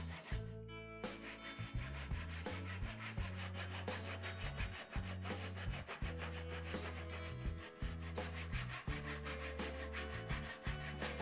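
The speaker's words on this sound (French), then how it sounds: "termine toutes les entailles à la scie japonaise et au ciseau à bois." A Japanese hand saw cuts steadily through wood notches in quick, regular back-and-forth strokes, close and continuous, with no talking.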